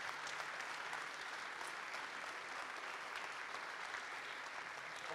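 An audience at a general assembly gives sustained applause as medal winners come up on stage, even continuous clapping heard fairly softly from a distance.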